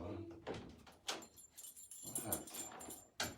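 A dog whimpers and whines near a sliding door, with door clatter and short thumps mixed in, all fairly quiet.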